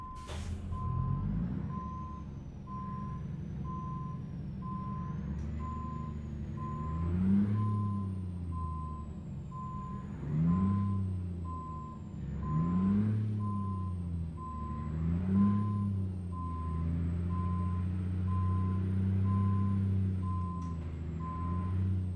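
A steady reversing beep repeats through a truck's idling diesel drone in American Truck Simulator, with a cab-over (COE) truck backing up. Engine revs swell and fall periodically under the constant alarm, and no one talks.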